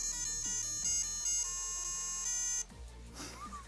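An MGA Game Wizard handheld plays electronic startup beeps after a cartridge is inserted, a chain of high steady synthetic tones and buzzy notes, close and fairly loud.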